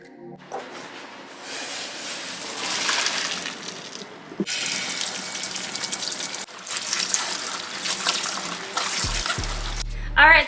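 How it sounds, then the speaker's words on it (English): Cold tap water gushes steadily over cooked macaroni in a kitchen sink for several seconds, a broad continuous splashing with brief shifts in flow and a clunk near the end. "we go ahead and rinse it with cold water so it stops the cooking process"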